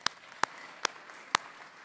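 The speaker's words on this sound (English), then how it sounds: "if we could give them a round of applause." Four sharp, isolated hand claps ring out faintly and unevenly for the sound and light crew at a church-hosted talk, with quiet gaps between each clap.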